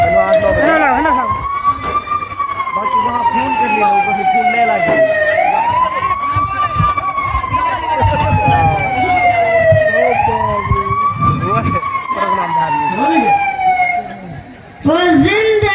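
A loud ambulance siren wails, rising and falling in slow, repeated sweeps close by, with a person speaking under it before it cuts out near the end.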